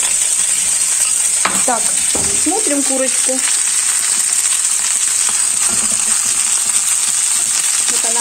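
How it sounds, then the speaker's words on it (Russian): Steady loud sizzling of chicken breast with sesame and peanuts frying in a hot pan, with a few clinks and scrapes of a utensil turning pieces; a voice speaks briefly. "Вот она обжаривается, переворачиваем ее."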